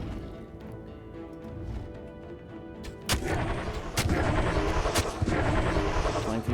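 Gunfire in an Age of Wonders 4 battle: sharp shot impacts at roughly 3, 4 and 5 seconds burst out of a quieter rumbling backdrop, then a dense, loud barrage of battle noise carries through to the end.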